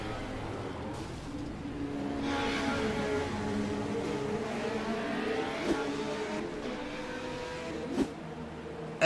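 Legends race cars roaring around the Thompson oval, a steady loud engine drone with revving and passing cars, one car drifting out of turn four, with sharp clanks near the end.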